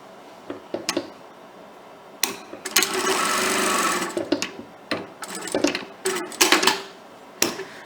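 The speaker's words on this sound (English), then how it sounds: "we're going to just sew along the bottom of it right at the edge of my presser foot" A sewing machine stitches along the edge of a fabric placemat, running in short rapid bursts of mechanical whirring separated by brief pauses, with one longer continuous run near the middle, close and clear.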